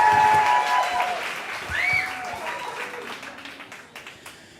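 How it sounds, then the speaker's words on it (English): Audience applause for Rick at a Moth storytelling event, strong at first and then tapering off, with a voice and some tonal sounds briefly heard over the clapping. "Big round of applause for Rick."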